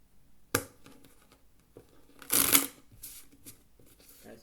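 Playing cards riffle-shuffled up close for Ultimate Texas Hold'em poker, with a sharp snap at the start and a longer burst of fluttering cards midway, then a few lighter taps.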